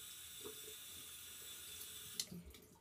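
Running water from a sink tap rinses a Breyer model horse, washing the soap off its tail, legs and belly; a steady, faint rush with a few brief splashes near the end.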